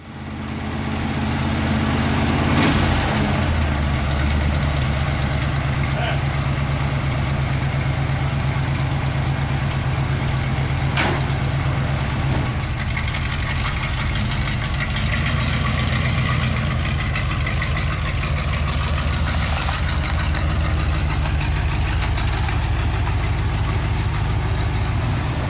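A 1972 Corvette engine cranks and catches, then settles into a loud, steady rumbling idle that holds close by for the rest of the stretch, a few faint knocks riding on top.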